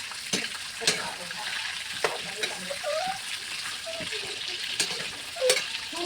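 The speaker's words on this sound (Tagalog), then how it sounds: "Pirituhin muna natin para lumabas yung kanyang mga mantika" Meat frying in a pan and rendering its fat, a steady close sizzle with scattered pops and stirring scrapes, under faint background talk.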